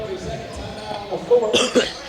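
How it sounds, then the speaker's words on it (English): A short burst of coughing near the end from a game commentator, two or three rough hacks close by over a noisy indoor background with faint talk. "Sorry for a cough."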